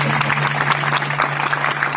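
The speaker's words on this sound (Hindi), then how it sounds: "के लिए जोरदार ताली बजाइए, जोरदार ताली।" A crowd at a motivational youth gathering breaks into loud, sustained applause, dense and continuous from start to finish over a steady low hum.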